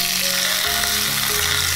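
Hot oil is poured over seasoned lettuce stem with chili, sesame seeds, soy sauce, oyster sauce and sesame oil, producing a loud, steady, close sizzle and crackle throughout.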